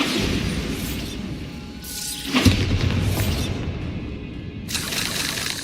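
A Bombarda blasting spell in Hogwarts Legacy goes off with one sharp, booming explosion near the middle, amid a steady background of game ambience and whooshing effects.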